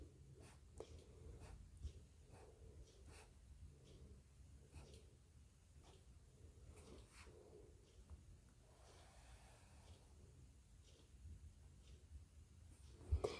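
A pen or marker draws a number line on paper or a board. Its scratchy strokes come in short repeated bursts with pauses between them, quiet and close, with no talking.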